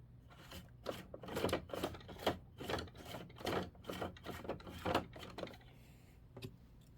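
Embroidery machine stitching a bow in taffy-coloured thread for a beach bag mini quilt, rapid rhythmic mechanical bursts repeating steadily, close and fairly quiet, then slowing to a stop near the end.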